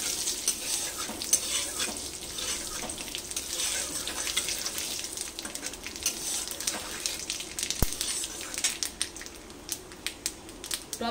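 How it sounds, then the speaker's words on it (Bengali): White and black cumin seeds sizzle and crackle in hot oil as a tempering, with a steady bright frying hiss, light stirring scrapes and the odd sharper clink against the pan, close and continuous throughout. "ওই তেলে আমি সাদা জিরে আর কালো জিরে ফোড়নে দিয়ে দিচ্ছি, 2-1 সেকেন্ড একটু ভেজে নেব।"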